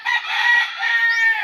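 A single backyard rooster crows once, loud and close, a drawn-out bright call lasting over a second against a quiet background.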